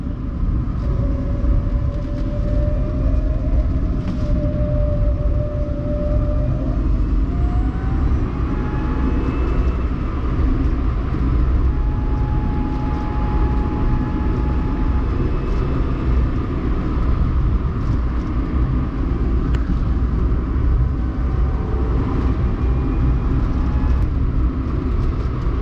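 A Renault Twizy electric car coasts with regenerative braking, producing a steady road rumble and tyre noise with a faint rising and falling electric whine, continuous and fairly loud throughout.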